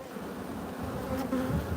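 A colony of honeybees drones in an open hive while the frames are inspected, a continuous close buzz with a few brief higher whines drifting over it and no speech.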